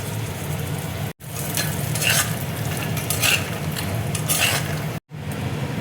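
Bori, small lentil dumplings, frying in hot oil in a home kitchen for a pumpkin curry, giving a steady close sizzle with faint stirring scrapes, briefly cut twice by silent gaps; no talking.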